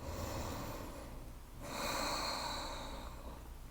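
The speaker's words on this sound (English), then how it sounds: "And we'll just breathe here for 3." Slow, deep breaths drawn in and let out during a yoga pose, soft and close, with a steady rushing exhale followed by a fuller inhale, no talking.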